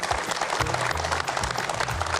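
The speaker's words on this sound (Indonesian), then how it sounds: "kita berikan tepuk tangan sekali lagi untuk Ustadz Dasyat Latif" Steady applause from an event audience after a guest ustadz, a dense continuous patter holding level throughout with low murmurs underneath.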